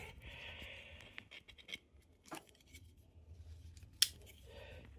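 A knife slicing and scraping along the tape of a Gloomhaven 2 cardboard game box, with short scratchy cuts, rustling and a sharp click near the end.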